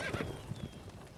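Roach the horse in The Witcher 3 gives a short whinny with a few hoof clip-clops, brief and fairly faint under game ambience.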